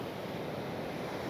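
Ocean surf at Manchebo Beach, Aruba, rolls in as a steady, broad wash of breaking waves with wind rushing across the microphone, holding at an even level throughout.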